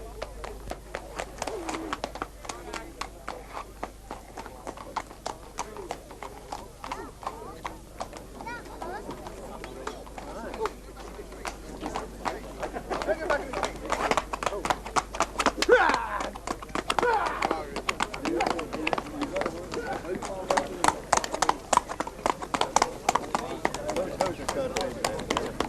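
Horses at Appleby Fair trotting on a road, an irregular run of sharp clip-clopping hoof strikes under continuous talk, growing louder and denser as they pass close by.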